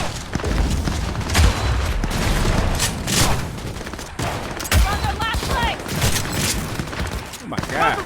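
Bursts of gunfire and booming shots, including a shotgun, during a Cyberpunk 2077 firefight, loud and repeated with heavy impacts, while a player talks excitedly over the shooting.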